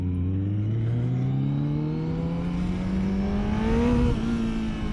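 A Kawasaki ZX14R or Yamaha MT-10 motorcycle engine accelerates up close with a smooth, rising drone that climbs steadily in pitch, is held briefly, then eases off. No talking.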